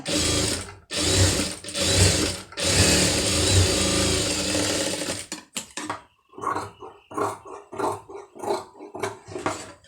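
A sewing machine stitches a blouse patti, first running in steady rattling bursts with short pauses, then giving way to quicker, choppier mechanical clicks and stops near the end, fairly close and with no speech.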